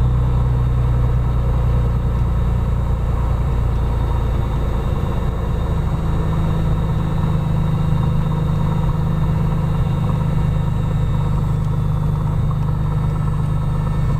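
An aircraft engine runs steadily at reduced power as it settles toward 1000 RPM, a constant, loud, close drone with a deep rumble and no talking.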